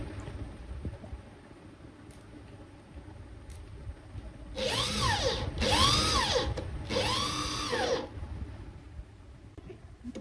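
Three short bursts of a power drill boring into wood for a baby safety gate, each whine rising and falling, with brief pauses between them over a quiet background.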